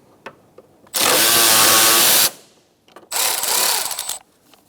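A power tool, likely an impact driver, backs out a bolt with a 10mm socket on a 2012-2017 Hyundai Accent 1.6L during a transmission mount job: two loud bursts of whirring, a long one and then a shorter one, with quiet clicks between.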